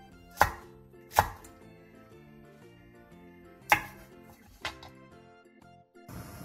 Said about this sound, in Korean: 청양고추 4개와 홍고추 2개도 큼직하게 잘라주세요.